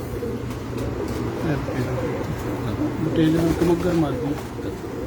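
Batera pigeons coo in low, rolling phrases on a rooftop loft, steady and close, with someone talking over them throughout.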